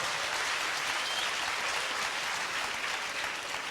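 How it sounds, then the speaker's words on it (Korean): Sustained applause from a seminar audience of teachers, dense and steady clapping filling the room for the whole stretch, with no voices rising above it. "그분을 향해서 집중적으로 격려하는 박수를 보내드립니다"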